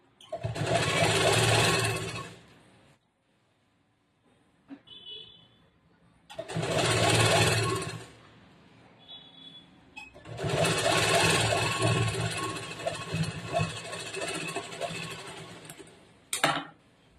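A sewing machine stitches panels of a princess-cut blouse in three loud, close runs of fast whirring needle action separated by quiet pauses with small handling clicks.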